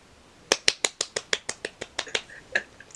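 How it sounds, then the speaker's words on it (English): A quick run of about a dozen sharp, crisp hand claps in an even rhythm, close and alone, tapering off near the end during a podcast. "Love the clap."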